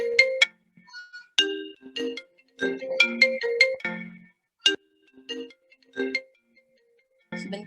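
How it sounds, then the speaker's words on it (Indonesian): An incoming call's phone ringtone plays a bright, chiming melodic pattern of short tonal notes with brief gaps, clear and alone in a quiet room. "Kenapa ini ada telepon?"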